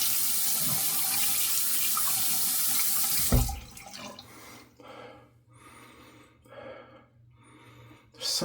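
Warm water runs from a tap to wet a razor for shaving, a steady broad rush for about three seconds, then stops, leaving quieter intermittent splashing and rinsing sounds.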